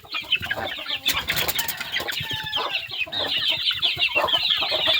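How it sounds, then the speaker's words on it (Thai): Three-month-old chicks cluck and chirp in a busy, overlapping chorus, close and fairly loud, with short bursts of scratchy calls and no talking. "ลูกไก่สามเดือนนะครับ"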